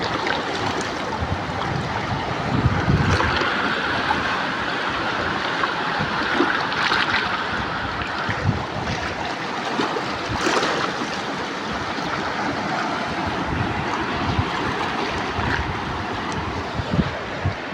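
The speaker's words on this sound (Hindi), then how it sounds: "मुझे आप खुद डर रहा है इस तरह के पानी की आवाज़ें आ रही है" Rushing floodwater during a dangerous storm surges in a steady, roaring wash with wind buffeting the microphone, broken by occasional heavier splashes and thuds, loud and close with no talking.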